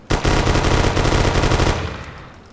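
Rapid burst of modded Thompson submachine gun fire in Grand Theft Auto IV, a loud continuous rattle of shots lasting over a second before cutting off and echoing away.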